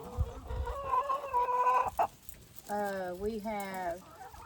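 Close chickens cluck and give drawn-out, wavering calls, with a rooster-like crow in the middle and bits of background voice.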